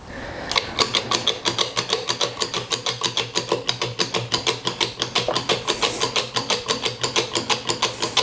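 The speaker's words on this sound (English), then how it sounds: "That allows the hydraulic press to hold its pressure. And then you just start ramping it up." A hydraulic press pumped by hand to press herbs gives a steady run of regular mechanical clanks and ratchet-like clicks, about three per second, loud and close with no talking.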